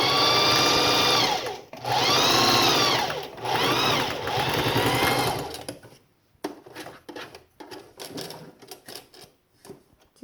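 A sewing machine stitches along the bottom of homemade cat ears in three loud, close bursts with brief pauses, then falls to quieter scattered handling noises.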